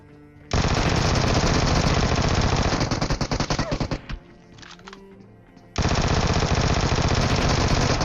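A Vector submachine gun fires in the mobile shooter PUBG Mobile with loud, rapid full-auto bursts. A long stream of shots tapers into separate cracks and goes quiet for a moment, then another sustained burst follows.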